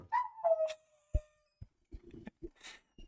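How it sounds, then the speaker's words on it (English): A pet dog whines and yelps at recorded music: a few tonal, falling whimpers early on, then scattered short yips and soft vocal bursts, close by and fairly quiet. "Oh yeah, my dog hates music"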